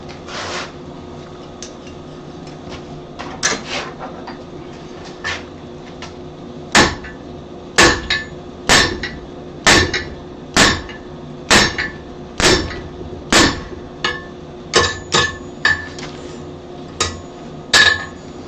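A blacksmith's hammer drives a round drift through hot metal, sharp ringing strikes that start sparse and settle into a steady, loud rhythm of about one blow per second.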